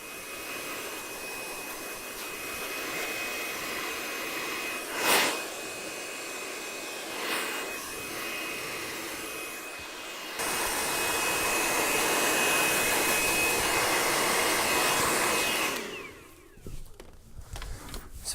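A hair dryer blows hair dry at a barbershop during a textured quiff cut, a steady loud whoosh that shifts louder midway with brief bumps from handling, then cuts off near the end.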